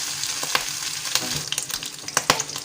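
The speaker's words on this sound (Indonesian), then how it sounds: "Lalu kita tumis sampai benar-benar matang ya." Javanese fried noodles with egg are stir-fried in oil, giving a close, steady sizzle broken by sharp clicks and scrapes of stirring at an uneven rhythm, with no talking.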